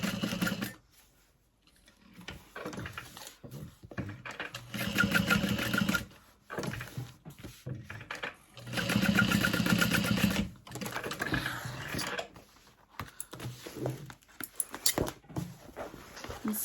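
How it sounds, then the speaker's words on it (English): A sewing machine runs in several bursts, top stitching a fabric tote bag, its steady rapid mechanical whir starting and stopping up close with short pauses between runs. "sew it in place like that"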